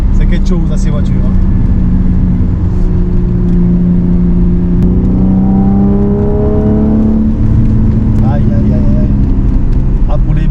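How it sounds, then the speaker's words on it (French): A 1987 BMW E30 325iX's 2.5-litre engine hums steadily from inside the cabin while driving, with a smooth low drone that rises briefly as it revs; speech is faintly present. "On entend ronronner le moteur"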